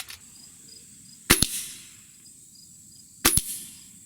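A Gamo Swarm Magnum air rifle fires Gamo Rocket 14.5 grain pellets: two sharp, close cracks about two seconds apart, each with a quick secondary snap, over quiet outdoor insect chirping.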